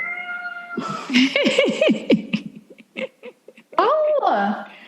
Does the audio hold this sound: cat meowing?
yes